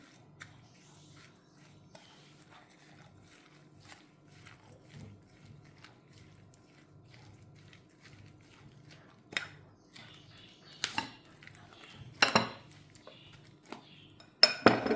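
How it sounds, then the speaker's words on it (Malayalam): Broccoli egg omelette batter is mixed in a bowl with a utensil, making faint soft scraping and occasional light clinks that grow into louder metallic taps against the bowl toward the end. "ഇനി ഇത് നന്നായി ചേർത്തെടുക്കാം നമുക്ക്."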